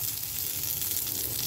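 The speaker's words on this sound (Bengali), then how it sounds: "এবার এই এক এক কড়াইতে দেখো আমি দিয়ে দিলাম একটুখানি বাটার" Butter sizzling in a wok-style pan over a low gas flame while making a creamy pasta, a steady close hiss with no pauses and no talk over it.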